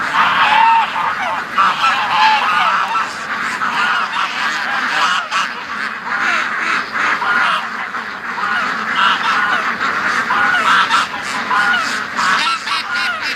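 A flock of farm geese and ducks honk and quack continuously, loud and close, with overlapping nasal calls forming a busy, unbroken chorus for over thirteen seconds.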